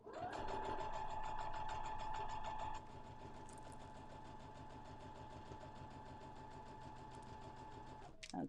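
Sewing machine stitching over elastic, a steady close rhythmic whir with a faint whine early on, running nearly continuously before stopping with a click at the end.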